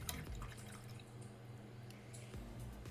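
A paintbrush is rinsed in a cup of water during a pumpkin patch painting session, with soft dripping and sloshing sounds close up over a low, steady background hum.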